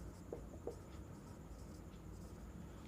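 Marker strokes scratch across a board during a biology lecture, with a few faint, short squeaks early on against a quiet room hum and no talk.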